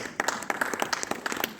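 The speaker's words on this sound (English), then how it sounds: "I hope every one of you feel like to have a big round of applause for them." A workshop audience claps for presenters in a sparse, uneven patter of individual hand claps, close and distinct rather than a dense roar.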